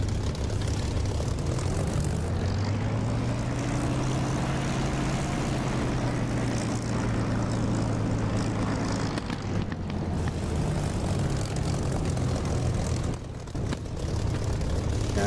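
A propeller aircraft engine in the DCS flight simulator game runs up for takeoff, with a loud continuous drone whose pitch climbs and steadies. No one speaks.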